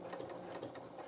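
A sewing machine stitches a fabric otter toy, its needle pulsing in quick, even bursts at close range, short and fairly quiet, with no talking.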